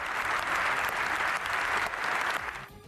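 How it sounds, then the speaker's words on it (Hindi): Sustained applause from standing MPs in the UK Parliament honouring Zelensky, a dense, steady wash of many hands clapping that continues for a few seconds before trailing off. "ज़ेलेंस्की के सम्मान में खड़े हुए सांसदों ने देर तक तालियां बजाई।"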